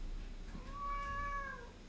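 A domestic cat gives a single drawn-out meow, near and fairly soft, rising and then falling over about a second against a quiet indoor room.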